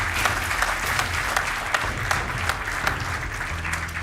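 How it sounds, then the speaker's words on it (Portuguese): Steady applause from a TV game show audience, many hands clapping continuously at an even level for a few seconds. "Um aplauso para eles."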